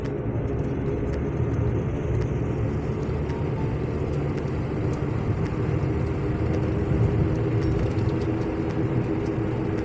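A car drives at roughly 60 km/h during a driving practice session as the clutch is pressed and the gear is shifted; a steady, loud engine and road rumble runs throughout with no talk.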